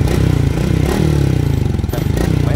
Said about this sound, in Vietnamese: Máy nổ nè